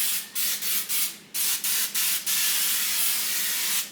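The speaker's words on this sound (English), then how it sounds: "pan spray, which is made for bundt cakes" Cooking spray for bundt cakes hisses into a cake pan in a series of short bursts, then one long continuous spray, close up with no talking.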